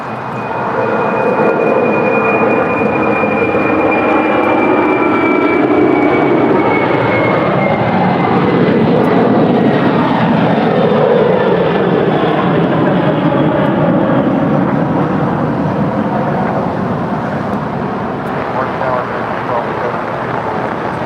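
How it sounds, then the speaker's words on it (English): Caleta Air flight 9741 departing LAX for Fairfield: a loud, sustained jet roar with a high engine whine slowly sliding down in pitch, steady from start to finish. "this is Caleta Air Flight 9741 departing to Fairfield"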